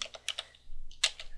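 Computer keyboard keys are tapped to enter a command in a terminal, a few quick clicks, a short pause, then another burst of keystrokes, close and clear with no talking.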